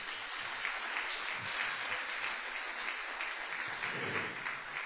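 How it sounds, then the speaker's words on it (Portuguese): A church congregation claps together in a dense, steady wash of applause lasting several seconds, broad and evenly sustained with no one speaking. "Agora você pode dar uma salva de palmas para o Senhor."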